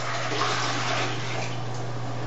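Water splashes and trickles steadily as a grout sponge is rinsed out in a bucket during tile grouting, a continuous close wash of sound with a low hum underneath.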